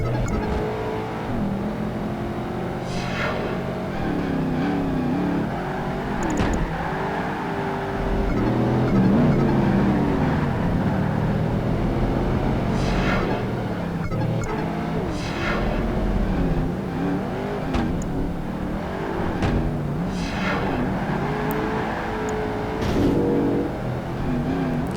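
Muscle cars including a Camaro and a Mustang race in Project Gotham Racing 2, with engines roaring and revving continuously, gear shifts and tire noise rising and falling over the full stretch.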